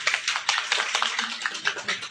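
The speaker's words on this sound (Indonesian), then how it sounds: "Boleh minta tepuk tangannya Bu?" Audience applause at a community health centre event marking National Nutrition Day, a dense patter of claps filling the room with voices mixed in.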